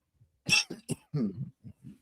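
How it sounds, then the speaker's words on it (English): A few quick coughs and throat-clearing sounds, close and fairly quiet, with no talking. "Cough."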